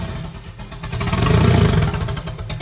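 A sand car's engine fires up and settles into a loud, close, rough rumbling idle with rapid clattering pulses, swelling in the middle and then easing slightly.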